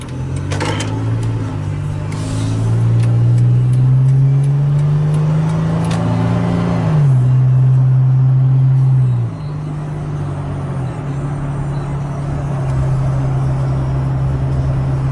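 A 2012 Toyota Tacoma TRD Baja pickup truck drives on the road, heard as a loud, steady engine drone that climbs slowly in pitch, then drops sharply twice as gears change, with road noise underneath.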